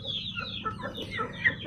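Chickens kept in three-tier stacked cages on a small backyard farm cluck in short, overlapping calls, moderately close against a low background hum.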